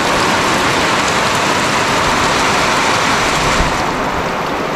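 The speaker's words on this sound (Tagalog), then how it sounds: "Solid na ulan eh, no?" Heavy, steady rain pours down outdoors beside a river with a rising water level, a dense, unbroken hiss that fills the whole clip at close range with no pauses.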